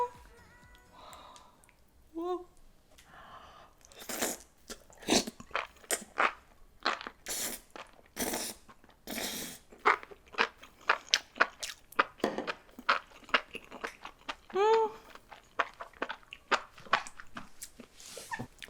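Crunchy bites and chewing of fried dumplings, spicy jjajang buldak enoki mushrooms, quail egg and green onion kimchi, close and repeated in irregular bursts with small clicks, no talking.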